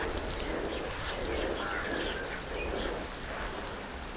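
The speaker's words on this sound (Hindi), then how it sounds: "अब मैं इसको दोबारा पानी दे रहा हूँ।" Water poured over the planting media in a seed tray, a steady soft trickle and shower lasting several seconds, with no talking.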